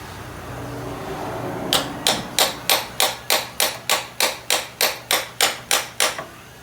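A steady series of about thirteen sharp hammer taps on a transmission axle seal of a Ford Escape, evenly spaced and close, with a faint hum underneath and no talking.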